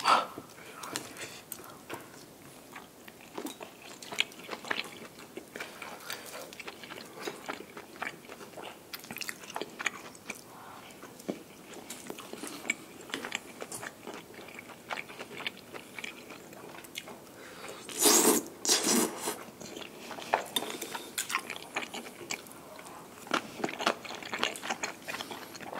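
Several people chew and bite through tteokbokki rice cakes and fried fish cakes, with wet chewing and crunchy bites close up over about half a minute and occasional chatter between mouthfuls.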